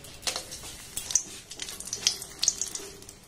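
Dried red chillies and a bay leaf crackle in hot mustard oil, a faint, uneven sizzle with scattered small pops and spits, no voices.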